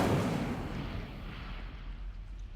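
The Incendio fire spell is cast in Hogwarts Legacy: a loud, rushing whoosh of flame bursts out at the start and then settles into a sustained roaring burn that slowly fades.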